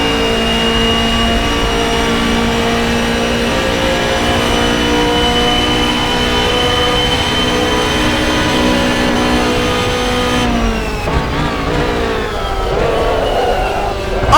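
Racing car engines roaring in an rFactor 2 race as a BMW passes a rival down the inside, a loud continuous high-revving whine that shifts pitch near the end as the cars change gear.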